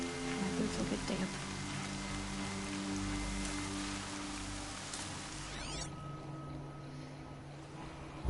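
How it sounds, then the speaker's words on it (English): Rain falls in Horizon Zero Dawn, a steady hiss of drops on surfaces that lightens toward the end, with soft game ambience underneath. "More rain. My boots will get damp."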